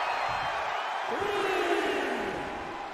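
A wrestling match crowd roars and cheers continuously, loud and sustained throughout, with a rising shout-like swell in the middle.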